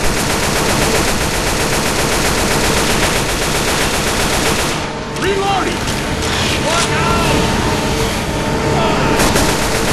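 Rapid, continuous machine gun fire from the Left 4 Dead video game, loud and dense for nearly ten seconds with only a brief lull midway, mixed with game effects and players talking over it.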